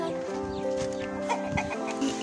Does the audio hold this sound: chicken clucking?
yes